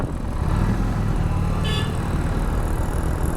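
A Harley Davidson Street 750 motorcycle sounds its horn once in a short, thin toot over steady engine and road noise while riding.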